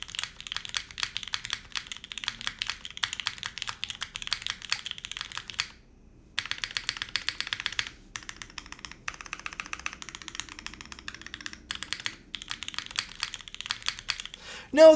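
Rapid clacking keystrokes on a custom mechanical keyboard, near and crisp, running in bursts with a clear gap around six seconds and shorter breaks later, ending in a louder knock.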